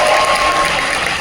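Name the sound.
audience applause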